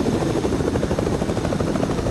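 A video game helicopter's steady, loud rotor thrum and engine roar fills the clip continuously, with no voices.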